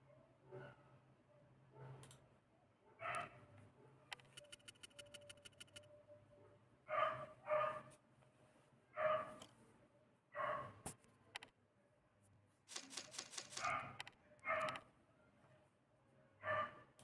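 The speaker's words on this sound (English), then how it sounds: "Can you hear the dog barking on the background?" A dog barks in the background during a Real Racing 3 session, short muffled barks coming in irregular bursts and mixed with brief electronic game tones, all fairly faint.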